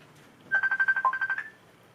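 A telephone rings with a rapid trill of about ten short, even tone bursts lasting roughly a second, fairly close and clear, with no talking.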